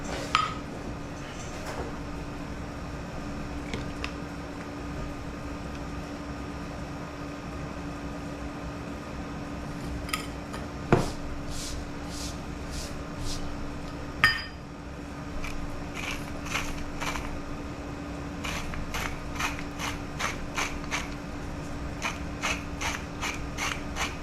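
A kosher salt grinder is twisted in a steady run of short ratcheting clicks, sparse early and then quick repeated bursts, close and crisp over a faint steady hum.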